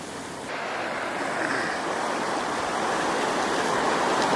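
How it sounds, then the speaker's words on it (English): Steady broadband rush of the Murrumbidgee River flowing beneath a bridge at night, a continuous wash of moving water heard from above with a little wind, no voices. "So I'm standing on top of the bridge over the Murrumbidgee River."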